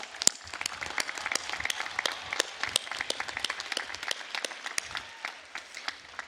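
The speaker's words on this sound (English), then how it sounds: "please recognize them with a big round of applause" A commencement audience applauds architecture and environmental design graduates, with sustained crowd applause in which many sharp individual claps stand out against the steady roar.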